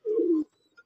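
A single pigeon, recently dosed with a deworming treatment, gives one short close coo that breaks off abruptly, followed by a faint brief sound in near silence.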